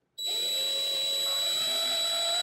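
A small 3/32 drill bit bores into a brass part of a Lionel ZW transformer, ahead of tapping for a 4-40 bolt, giving a steady, close, high-pitched whine that starts abruptly and stops after about two seconds.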